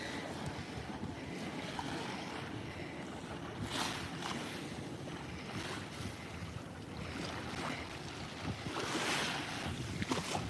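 Adriatic Sea waves washing onto the shore at Dubrovnik, Croatia, at sunset: a continuous rushing surge with gusty wind, swelling in louder bursts, no voices.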